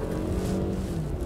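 A Toyota Camry XV70's engine drones steadily as heard from inside the cabin, a low continuous hum with road noise, moderately loud and unbroken.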